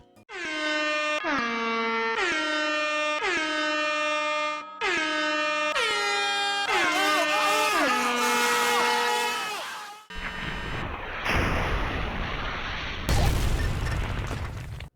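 A bright chiming jingle, the Five Nights at Freddy's 1 6 AM sound, repeats in short phrases, then gives way to blaring air horns and booming bursts in an MLG-style remix, loud and chaotic with no talking.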